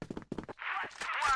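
Gunfire bursts from a CrossFire esports match, several sharp clipped shots in quick succession followed by a sustained noisy crackle and whoosh of game action.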